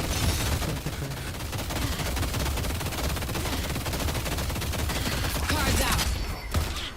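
Rapid video game gunfire, a continuous dense stream of automatic shots close and loud, cutting off near the end.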